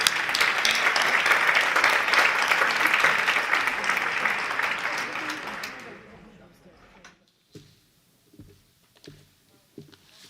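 Full room applause for an ambassador at a conference opening, loud and sustained for about five seconds before tapering off, followed by quiet scattered sounds and a voice beginning to speak.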